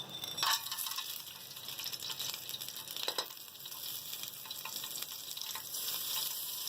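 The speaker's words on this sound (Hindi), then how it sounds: "हम गरम मसाला फ्राई करेंगे।" Garam masala frying in a spoonful of oil, a faint, steady hiss with a few light stirring scrapes, quiet and close, no speech.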